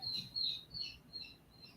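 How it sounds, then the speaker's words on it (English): Pet birds chirp in a quick series of short, high tweets, several in a row at moderate distance, fairly faint and with no one talking. "You can hear my birds."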